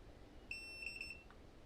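A thin electronic beep tone from a Bluetooth thermal printer with no paper loaded sounds in a couple of short pulses, faint against a low background hum, with no talking.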